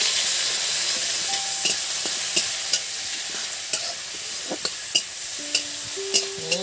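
Cumin and crushed garlic sizzle in hot oil for ghugni, with a steady frying hiss. A spoon stirs the pan with periodic light scraping knocks, and there is no talk.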